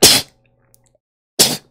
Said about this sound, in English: Oh, did you just sneeze?